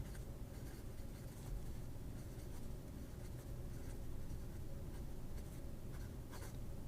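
Chinese fountain pen nib, a V800 in Blue Galaxy finish, writing across paper with a steady, continuous soft scratching close to the mic, the strokes running on without pause under faint background hum.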